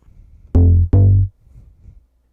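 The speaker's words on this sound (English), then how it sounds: "Then we can add some distortion, just a little soft clip." Vital melodic tech house synth bass with light soft-clip distortion, two loud, thick, gritty notes in quick succession, heard alone.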